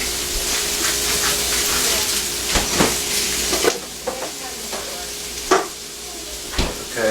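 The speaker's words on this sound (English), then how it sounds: "Okay, so next step, we're going to melt this butter." Butter melts in a pan for a homemade mac and cheese sauce, giving a steady low sizzle and hiss broken by a few sharp stirring clinks and scrapes, with no one talking.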